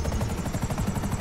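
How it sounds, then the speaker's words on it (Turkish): Helicopter in the video game GTA 5, a steady chopping rotor beat with a rumbling engine drone, loud and continuous throughout. "Helikopter gitmek üzere."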